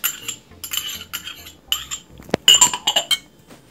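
A spoon mixes kebab spices for chicken suslik kabab in a bowl, giving irregular clinks and scrapes against the bowl. The bursts are close and sharp, with brief pauses between strokes and a sharper knock near the end.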